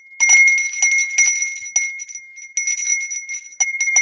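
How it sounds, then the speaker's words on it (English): A small bell rung repeatedly in bright, ringing strikes that come in irregular clusters, each with a sustained shimmering tone, close and clear with no voices. "Every time the virgin bell is rung"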